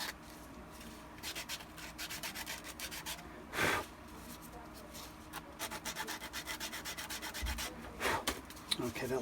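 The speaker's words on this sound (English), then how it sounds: "I'm going to just run that through some sandpaper quick just to smooth it down a little bit." Sandpaper rubbed back and forth to smooth the cut edge of an armor piece, a quiet, close, rhythmic scratchy rasp in quick repeated strokes with a few brief pauses.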